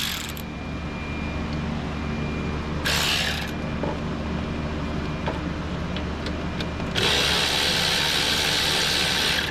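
A 12mm stubby ratchet wrench works on alternator bolts of a GMC 3.6 V6, quick bursts of close ratcheting clicks separated by pauses and faint tool handling, no talking.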